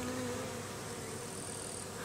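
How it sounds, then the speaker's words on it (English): Japonica honeybees (Apis cerana japonica) buzzing around up close during swarm recombining, a continuous droning hum with individual insects passing by, no voices. "bees looking around."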